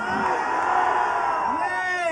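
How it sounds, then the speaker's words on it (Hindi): Audience at a NIMS University welcome event for a film team cheers and whoops loudly, with a continuous crowd roar and shouting voices throughout. "प्रोफेसर पलक मुच्छल के लिए जोरदार तालियां।"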